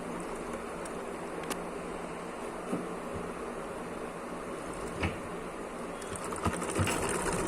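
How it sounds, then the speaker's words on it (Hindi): A sewing machine runs smoothly at an even speed, a steady buzzing whir close by, with a few soft clicks and no voices. "ये देखिए मशीन कितने स्मूथली वर्क कर रही है, किसी तरह की कोई आवाज़ नहीं है"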